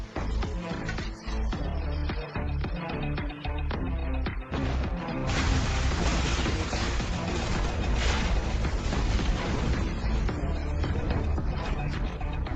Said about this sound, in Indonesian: Ledakan dahsyat mengejutkan konvoi itu.